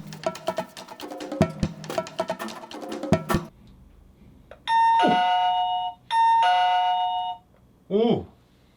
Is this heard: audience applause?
no